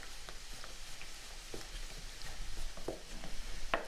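Soft, continuous scraping and light tapping of a utensil mixing a thick batter of flour and water in a bowl, close up, with no talking.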